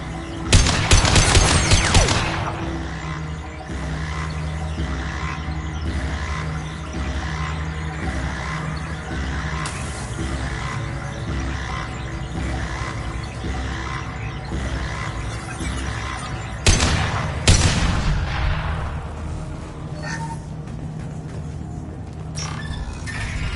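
Rapid bursts of sci-fi weapon fire in the Mass Effect 2 video game: a loud rattling volley at the start and another near the end, with a steady mechanical hum and scattered distant shots in between.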